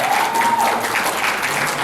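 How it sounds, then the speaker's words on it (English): A crowd at the Phoenix FanFest 2016 fan convention gives a short, dense burst of applause, loud and close, with no talk over it. "All right, round of applause."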